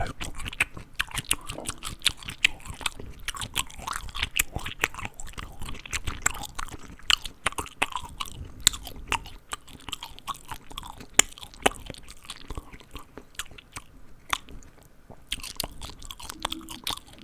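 Plain raw celery crunched and chewed right at the mic in a dense, continuous run of crisp snaps and mouth sounds, steady throughout with no speech.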